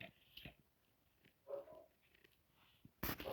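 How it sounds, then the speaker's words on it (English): A pet dog at home gives a few short, faint barks and yips at uneven intervals, with a louder, nearer bark at the end. "There goes my dog barking."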